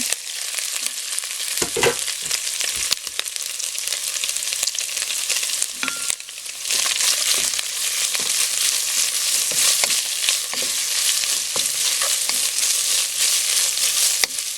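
Pork and chicken sizzle loudly in hot oil, a continuous close crackle with occasional scraping and stirring knocks, no talking.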